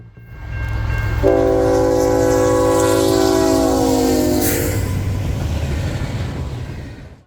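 An Illinois Central heritage-painted diesel locomotive, CN 3008, rumbles past close by, its horn sounding a long, loud multi-tone blast that cuts off as the engine roar continues.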